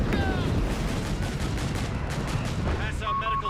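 A creeping artillery barrage in the video game Company of Heroes 3 rumbles and cracks continuously as dense gunfire, with faint radio chatter and game tones on top.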